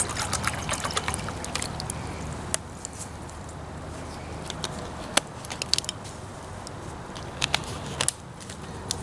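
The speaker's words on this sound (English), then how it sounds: "Let's add some more water." Water is poured into a cooking pot for ramen over a campfire in the woods, a steady hissing trickle lasting several seconds with scattered crackles and clicks and no talking.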